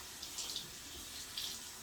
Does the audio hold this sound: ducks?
no